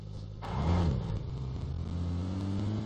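A vehicle engine in PUBG Mobile, a steady mid-pitched motor hum that swells as it accelerates and then holds a constant drone, close and loud.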